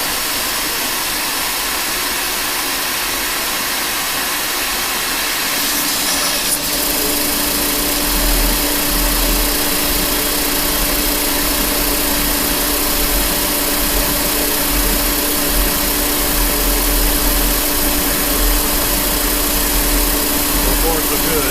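A milling machine cuts steel with coolant running, a steady loud whirring and hissing drone that holds unchanged throughout, with no voices over it.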